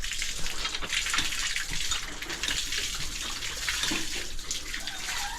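Tap water runs steadily from a household faucet just after a water filter has been fitted, a continuous close splashing gush with no talk over it.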